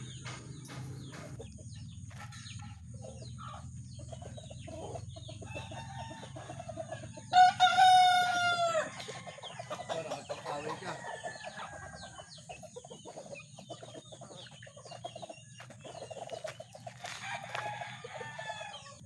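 Roosters crow and chickens cluck at a farm where fighting cocks are kept tied and caged, with a loud crow rising midway over steady background clucking and other birds.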